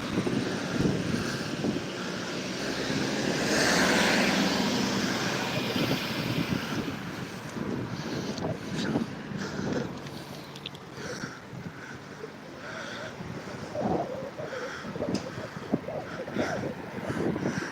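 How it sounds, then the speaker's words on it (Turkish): Wind blows steadily across a seaside pier on a summer evening, a broad continuous rush with gusty swells and faint distant background activity, fairly loud and close to the microphone. "Ne güzel esiyor ya. Püfür püfür."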